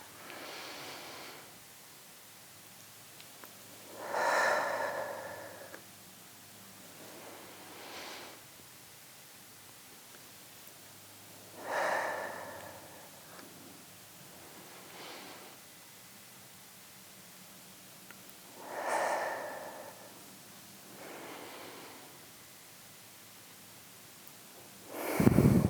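Slow, audible yoga breathing during seated cat-cow in a postnatal class, with long inhales and exhales in an even cycle, close and soft, with no talk.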